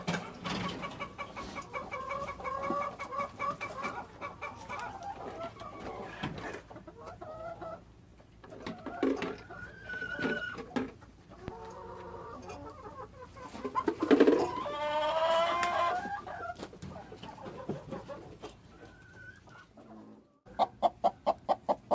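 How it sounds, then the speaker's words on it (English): A broody hen clucks and squawks in repeated bursts of fowl calls, fairly close and loud, with a sharper outburst near the middle and faint farmyard background throughout. "We got a broody hen"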